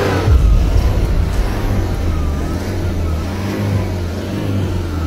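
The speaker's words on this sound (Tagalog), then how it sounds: "Kyle, bombayin mo, malakas." A car engine roars steadily with a low, rough drone, loudest at the start, then holding a sustained rumble with no clear voices.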